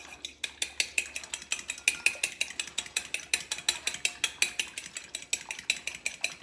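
Egg and milk whisked together for an egg wash with a fork or whisk in a bowl, a fast steady run of close clicking taps against the bowl's side for several seconds, with no talking.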